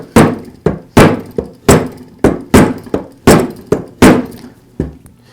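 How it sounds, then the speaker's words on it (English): Rubber shop mallet tapping on trimmer engine parts while reinstalling them during an oil seal replacement on an Echo trimmer; about a dozen sharp, close, fairly loud thunks fall in an uneven rhythm, each decaying quickly, with no talk. "I'll give it a couple of taps with the rubber shop mallet"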